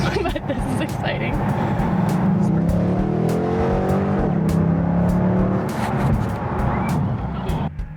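Car engine idling and revving up through a sustained rise, loud and close, after sitting unused for a while; a voice speaks over it near the end.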